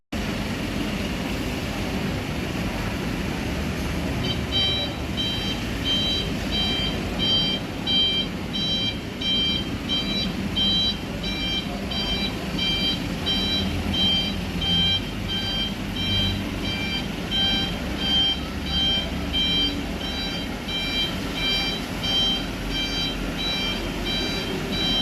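Trans Jatim Luxury bus reversing into a parking spot, its reversing beeper pulsing steadily over a constant engine rumble and outdoor ambience for most of the stretch.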